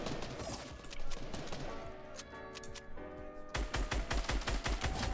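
Gunfire in a multiplayer shooter video game: clusters of rapid, crackling shots build into a fast, steady burst of repeated bangs near the end, heard without talk.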